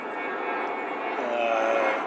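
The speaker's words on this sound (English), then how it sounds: "Here comes another plane." An airplane passes over a carp fishing lake, a steady broad engine roar that holds at moderate loudness and swells slightly toward the end, with no talk.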